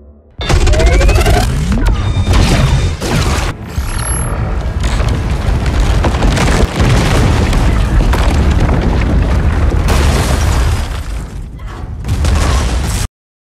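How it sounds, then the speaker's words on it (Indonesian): A huge ion explosive blast in a sci-fi film arrives as a loud, sustained booming roar with rumbling bursts and crashes across about thirteen seconds, then cuts off abruptly. "Atlas memerintahkan untuk mengaktifkan peledak ion"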